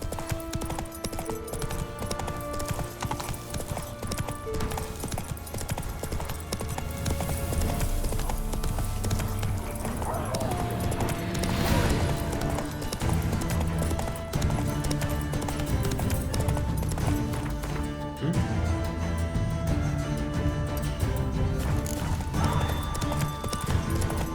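Hooves of the horse Roach pound in a steady galloping clip-clop inside a fantasy video game set in Velen, carrying on continuously beneath game music and ambient sound.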